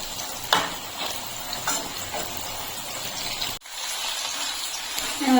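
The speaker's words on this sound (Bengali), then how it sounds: "গ্যাসের ফ্লেমটা মিডিয়ামে রেখে মুচমুচে করে ভেজে নিতে হবে" Bitter gourd slices fry crisp in hot oil over a medium gas flame, giving a steady close sizzle broken by stirring scrapes and one brief pause before the bubbling resumes.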